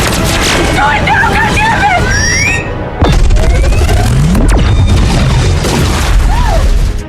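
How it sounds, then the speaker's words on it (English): An ion bomb goes off in an animated sci-fi scene: a sudden deep booming blast with a descending whoosh, following sweeping, warbling synthetic tones, and the rumble continues afterwards. "The ion cannon blast leveled the area for several kilometers"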